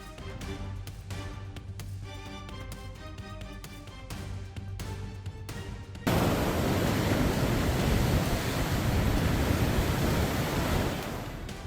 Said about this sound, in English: The Outer Banks of North Carolina were battered by massive waves, a clear reminder of the ocean's destructive force.